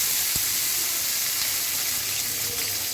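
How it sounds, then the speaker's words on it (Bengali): Dried fish frying lightly in oil in a home kitchen, a steady close hiss and sizzle with a faint crackle throughout, one brief knock near the start. "তেলে হালকা করে একটু ফ্রাই করে নিব প্রথমে"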